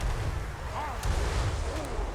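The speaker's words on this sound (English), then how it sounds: "the Magma Cannons and Hell Cannons and Death Shriekers will begin firing once more" Magma Cannons, Hell Cannons and Death Shriekers fire in a Total War: Warhammer 3 battle, heard as a steady low rumble of distant artillery booms with faint whistling projectiles overhead.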